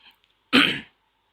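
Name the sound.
cough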